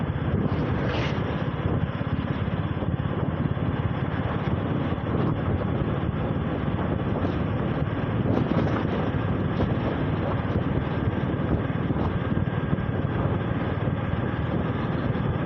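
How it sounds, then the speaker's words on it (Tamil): Wind buffets the microphone during a ride on a local road, a loud, constant roaring rush with no letup. "வெளியில் கொஞ்சம் காற்றடிக்குது,"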